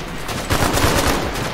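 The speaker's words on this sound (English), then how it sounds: "they're shooting back" A brief, loud, close burst of rapid automatic gunfire in the Vietnam war game Mung Daal Vietnam.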